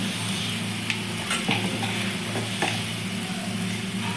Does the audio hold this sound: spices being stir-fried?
yes